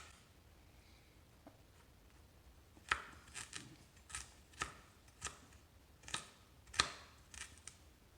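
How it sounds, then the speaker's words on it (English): Ginger is chopped finely with a knife, giving a series of sharp, quiet clicks and taps that start sparse and then come in a quicker irregular rhythm, with no voices. "Next we're going to do the ginger, which needs to be also chopped fine."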